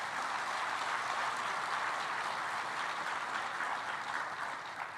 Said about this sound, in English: I think he really deserves that clap